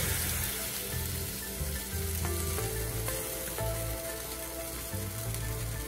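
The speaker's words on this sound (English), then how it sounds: "we're just going to let that simmer" Chicken broth simmers and sizzles steadily in a hot pan, a close, continuous frying crackle with occasional soft stirring clinks and no voices.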